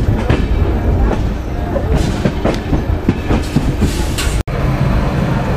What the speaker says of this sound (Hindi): ये भी है ट्रैक। डायमंड क्रॉसिंग, लेकिन आगे वाली बहुत खतरनाक है।